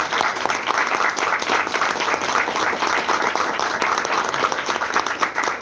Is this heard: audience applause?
yes